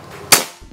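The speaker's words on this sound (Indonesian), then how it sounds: "Oke, tembakan ke 21" A single sharp, close shot from a Ghost Warrior PCP air rifle with a 360cc reservoir, a short crack that fades quickly amid quiet surroundings.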